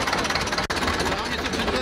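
A historic tractor engine running at a vintage ploughing event, a steady dense mechanical chugging close by with a brief dropout, and people talking over it.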